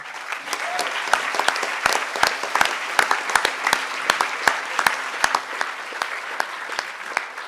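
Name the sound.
audience applause at a conference closing ceremony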